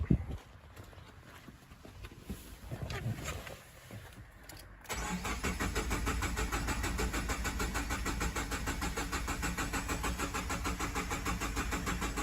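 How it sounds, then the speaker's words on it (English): A new Ford car engine cranks with its fuel pump disabled, the starter turning it over in a fast, even, rhythmic chug that continues loudly for several seconds after quieter shuffling and clicks. "We just want it to be able to crank over and see the pattern as it cranks."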